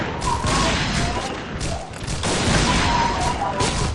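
Heavy sniper rifle fire from an XM2010 in a first-person shooter game, sounding as loud booming blasts over a dense, continuous wash of battle noise, with voices talking excitedly throughout.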